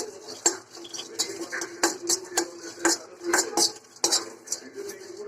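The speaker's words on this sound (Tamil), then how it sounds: "வெறும் சட்டியில தான் போட்டு வறுக்கணும்." Garlic cloves dry roasting and being stirred in an empty pan, with repeated metallic scrapes and clinks of a utensil against the pan at an irregular rhythm, close up and fairly loud.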